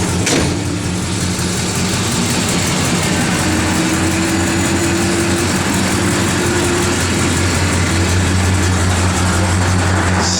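A 1968 Plymouth Road Runner engine idles steadily and loudly up close, a deep rumble holding an even pitch throughout.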